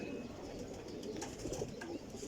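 A pigeon held in the hand coos in soft low murmurs, close and steady over a continuous dim background, with no talk during the moment.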